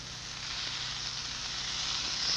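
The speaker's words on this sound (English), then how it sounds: "you can just lay those steak strips right there on the grill and hear that sizzle" Steak strips sizzle on a George Foreman grill, a loud, steady hiss of frying that holds constant and swells slightly toward the end, with no talking.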